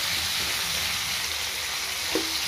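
Onions stewing in water in a pan give off a steady, even bubbling sizzle that stays constant and close, with a brief clink near the end.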